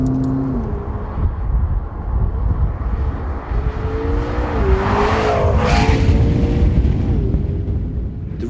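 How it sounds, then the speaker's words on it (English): A McLaren 650S Spider sports car engine drones loudly, its pitch sliding up and down as it accelerates, with a louder whooshing surge midway. "The 650S sounds at its very best though, with the roof up"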